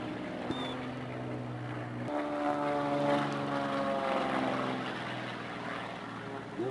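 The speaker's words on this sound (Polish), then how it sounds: "Samolot się wznosi, ale po wykonaniu połowy beczki i zaczyna te pół pętli z pozycji odwróconej" An aerobatic propeller airplane climbs during a display at an air picnic in Płock. Its loud, steady engine drone shifts in pitch partway through and carries alone without speech.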